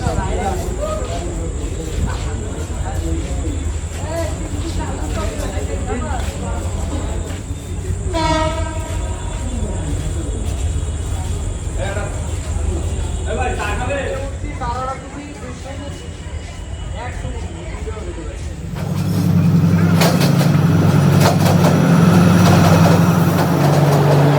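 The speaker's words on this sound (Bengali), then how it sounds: "অবশেষে ট্রেনটা চলেই আসলো" A train arrives at Khulna railway station, rumbling and clattering near with a sounding horn midway and a louder roar of passing cars at the end, under crowd chatter.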